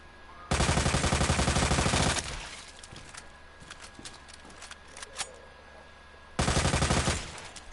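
Two loud sustained bursts of automatic gunfire in Resident Evil 2, Leon using infinite ammo, one early and one near the end, with quieter clicks and impacts in the gap between them.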